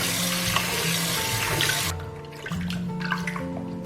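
Water runs from a tap with splashing as pork ribs are rinsed beneath it, then the flow briefly changes and resumes, close up.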